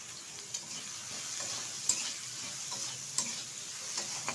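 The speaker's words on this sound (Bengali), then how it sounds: "তো বেগুনটা ভালোভাবে ভেজে নিচ্ছি।" Small chopped eggplant pieces fry with a steady hiss of oil in a pan, broken by occasional scraping stirs and a few sharp clicks of the spatula, close and moderately quiet.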